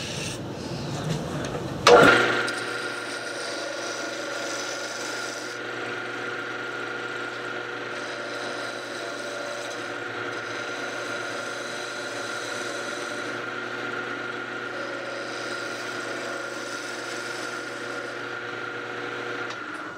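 Wood being turned on a lathe, held on a homemade mandrel with lock washers for making Christmas ornaments: a steady, continuous rubbing rasp of the cutting tool against spinning wood over a motor hum, starting sharply after a brief knock.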